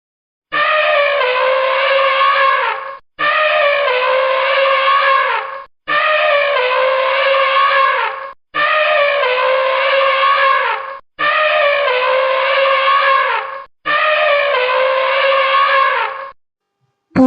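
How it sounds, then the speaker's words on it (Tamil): An elephant trumpets six times in a row. Each loud, brassy, harmonic blast lasts about two and a half seconds and is separated by a brief silent gap, with no talking. "யானை,"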